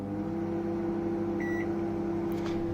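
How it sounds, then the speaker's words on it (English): A microwave oven hums steadily after start is pressed, a constant loud drone with a short electronic tone in the middle, no talking. "How can I not use the microwave? You just clear and just press start."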